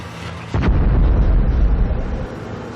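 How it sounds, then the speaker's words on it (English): A blast goes off in a tanzanite mine, a sudden deep boom that swells into a long rumbling roar and slowly fades, heard alone without voices. "Several explosions punctuate the day"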